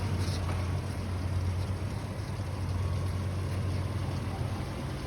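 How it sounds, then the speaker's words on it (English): A 2011 Ford Ranger's engine runs at a steady idle, a low, constant hum without variation, heard alone and moderately quiet. "The vehicle is running."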